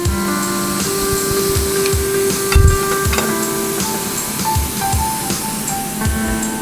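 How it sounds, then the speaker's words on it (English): Ribeye steak sizzling on a grill, a steady close hiss and crackle that runs unbroken through the whole stretch with faint clinks now and then. "now that we have the steak on the grill"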